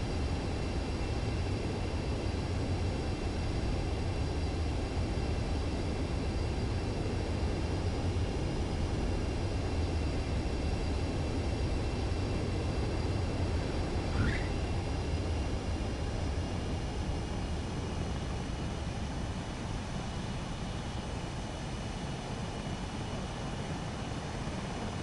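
A jet's steady roaring whoosh rolls on unchanged while it approaches a runway in the Ace Combat video game, the broad engine noise loud and constant throughout with no voices.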